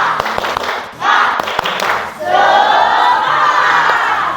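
A 9th-grade class in Indonesia claps a quick rhythmic spirit-clap pattern together, then breaks into a loud group shout that carries on to the end.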